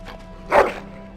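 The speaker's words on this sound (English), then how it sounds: "Bloody dog." A single short bark from a dog in the video game Dragon Age: Origins, a brief mid-loud yelp over a quiet steady background hum.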